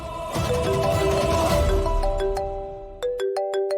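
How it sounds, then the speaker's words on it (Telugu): A phone ringtone plays a looping electronic melody, loud and close, then switches to a quick series of sharp repeated beeps. "వాసుదేవ్ ఫోన్ చేస్తున్నాడు."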